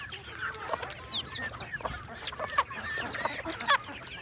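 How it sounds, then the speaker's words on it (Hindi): Chickens on an organic farm cluck and squawk in agitated bursts while fighting, with several birds calling close by and sharp louder cries standing out. "मुर्गियाँ जब बहुत ज़्यादा लड़ रही थी आपस में"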